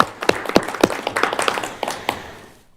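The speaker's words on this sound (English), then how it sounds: "let's give a round of applause for staff" A small group claps for staff at a city council retreat, a handful of distinct near claps at first that quickly thin into scattered hits before dying away.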